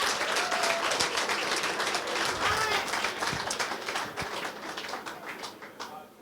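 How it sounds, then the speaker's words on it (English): An event audience applauds the organizing committee, a thick, sustained round of clapping that gradually thins and tapers off, with some murmured voices mixed in. "they deserve another round of applause."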